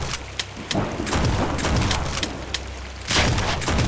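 Rapid bursts of gunfire from a Lovecraftian horror video game set around an old mansion, sharp repeated shots with booming low rumble, loud and continuous without any talk.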